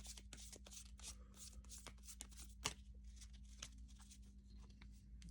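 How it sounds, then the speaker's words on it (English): Tarot cards being shuffled by hand during a reading, a close, quiet run of crisp riffling and soft slapping card sounds with a steady low hum beneath. "let's do one just in case"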